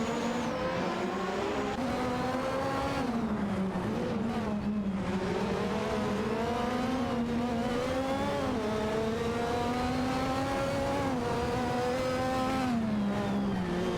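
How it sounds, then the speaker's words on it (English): A Ferrari F1/87/88C racing car in a video game race produces a sustained high-revving engine whine, with pitch rising and falling through gear changes and no talk over it. "Irene is driving a Ferrari F1/87/88C, and one serious guy is also in a Ferrari F1/87/88C."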